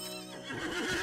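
A horse from the Lord of the Rings Online video game gives a single short, close whinny, rising and wavering over about a second.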